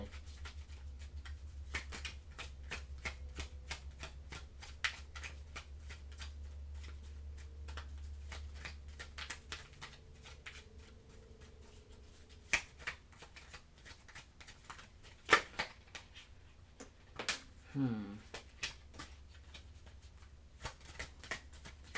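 Soft, steady riffling and flicking of tarot cards being shuffled close by, a quick patter of taps over a low hum, with a few sharper snaps.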